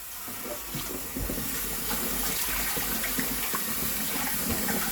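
Running tap water pours steadily over dried peas being rinsed for Jamaican stew peas, a continuous close splashing rush with a denser burst partway through, no talking.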